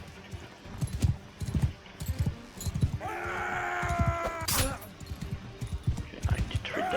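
A horse's hooves clip-clop in a steady rhythm in the medieval combat game Mount & Blade 2 Bannerlord, with a horse whinny near the middle and talk over the hoofbeats.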